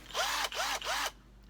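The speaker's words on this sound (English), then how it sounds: "I've been doing a lot of work with this drill." A cordless power drill runs in three loud, close bursts, each revving up and winding down with a short pause between them, with no talking.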